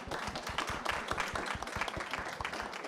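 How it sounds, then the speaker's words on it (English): An audience claps for a conference panel, a dense, steady wash of many hands close by and sustained for the whole stretch, with a faint voice underneath. "give a quick round of applause to our panel"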